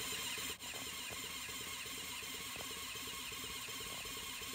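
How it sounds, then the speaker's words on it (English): A Honda RC374 six-cylinder replica engine, with a drop of oil in the sump, is spun over on its starter motor, giving a steady faint whirring and squealing churn with regular light mechanical ticks, unbroken for a few seconds. "So I put a drop of oil in the sump and spun it over on the starter motor."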